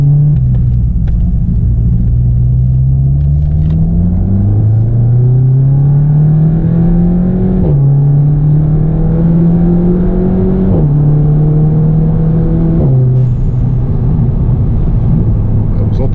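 A Volkswagen Golf GTI with 340 hp and a dome valve accelerates hard through several gears, its loud rumbling engine note rising steadily and dropping briefly at each shift.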